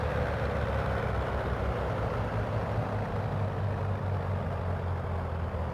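A DHC-1 Chipmunk's piston engine idles in Microsoft Flight Simulator at about 650 to 680 RPM, a steady low throbbing drone that stays constant and close throughout.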